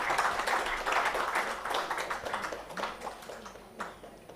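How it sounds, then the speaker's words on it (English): Round of applause at a sustainability education conference plenary session, a soft, steady patter of many hands clapping together for several seconds, somewhat distant and fading toward the end. "Let's have a round of applause, my dear friends."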